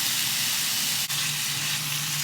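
Canned pineapple sizzling in a hot pan gives a steady, loud hiss of frying, with a faint tap partway through.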